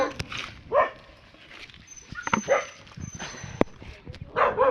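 A dog barks in a few short scattered bursts, moderately close, mixed with people talking in the background.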